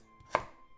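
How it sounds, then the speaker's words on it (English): A knife slices through a sweet potato in one single crisp cut against a board, close and quiet, with nothing else around it. "And slice."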